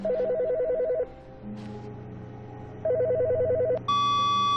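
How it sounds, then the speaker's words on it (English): An office telephone rings in The Stanley Parable: Ultra Deluxe, with two bursts of trilling electronic ringing separated by a pause. A steady higher tone follows at the end, heard clearly with no speech. "I've never heard a phone in here ring before."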